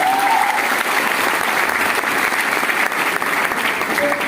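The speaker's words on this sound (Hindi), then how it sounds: "जोरदार तालियां होना चाहिए।" Applause from an audience at a business training event: continuous, even clapping that holds at a steady level from start to finish, with no talking.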